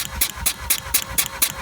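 A Mazda RX-8 rotary engine cranks over during a compression test with the clutch in and the throttle wide open. The starter produces a rapid, even chugging pulse of about six beats in under two seconds, close and clear.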